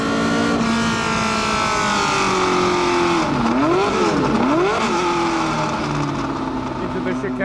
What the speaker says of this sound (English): A long time since I drove a Cosworth engine car really in a Formula 1 chassis